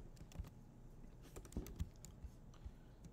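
Keystrokes on a computer keyboard while JavaScript code is entered, quiet scattered clicks with irregular rhythm and a few sharper taps, no talking.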